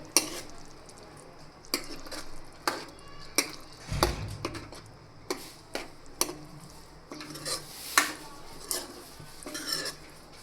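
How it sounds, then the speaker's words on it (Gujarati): Ripe banana pieces are gently folded into a curry in a pan, giving irregular spoon clinks and scrapes against the metal over a quiet background, close and intermittent. "આપણે કેળાને તેમાં એડ કરી દઈશું અને ત્યાર પછી એકદમ હળવા હાથે તેને મિક્સ કરી લેશું"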